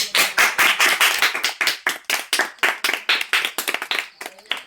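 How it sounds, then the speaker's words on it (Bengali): Young schoolchildren clap their hands together in a loud, brisk burst of fairly regular claps, about four per second, filling the whole stretch with no voices over it. "সুন্দর সবাই হাততালি দাও"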